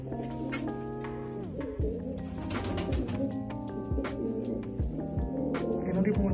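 Pet pigeons belonging to a village sarpanch coo in soft, repeated low rolling calls, several birds overlapping nearby, while people talk over them throughout.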